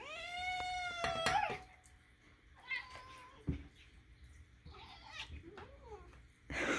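A cat meows several times in a row, the calls rising and wavering, loud and near in a quiet indoor room, with brief soft human sounds in between.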